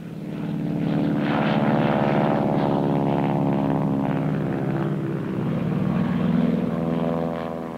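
Firefighting propeller planes fly over a forest fire, their engines a loud, steady droning hum that holds for the whole stretch with no voices.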